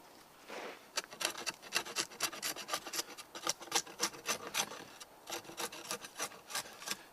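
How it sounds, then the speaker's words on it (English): A sharp knife scrapes bark and knots off a piece of wood for a shelter bed, giving steady rhythmic rasping strokes, close and fairly loud, with no talking. "And at the same time I'm scrubbing off the knots that I find. When I find a knot, I try to rub it down."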